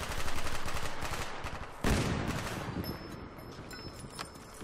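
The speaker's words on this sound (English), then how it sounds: "Is that guy shooting at me?" Rapid gunfire from the video game Black Ops, a dense burst of steady shots that stops suddenly, then a lower, thinner rattle continues in the background.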